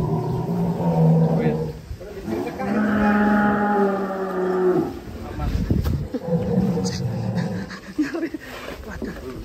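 An agitated cow in a pen at a cattle contest lets out a long, loud, low moo, then shorter bellows, while people talk nearby.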